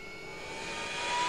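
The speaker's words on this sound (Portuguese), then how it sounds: "O RPM tá subindo. Olha o som do bicho." Harrier AV-8B jet engine in DCS starting to spool up, a steady rising whine with broadband roar building gradually louder, heard alone without voices.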